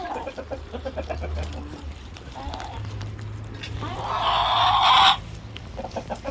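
Farm chickens cluck and chatter nearby in short, repeated bursts, with a louder squawking flurry partway through, while a person talks over them.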